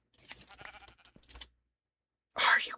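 A sheep bleating in a video game, one loud, close bleat after a stretch of chatter and clicks, then a brief silence.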